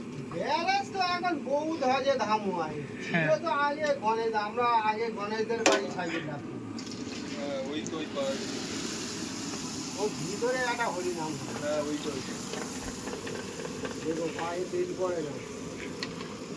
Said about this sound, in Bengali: বেলার পরে এই কাকু এখানে ভাজছে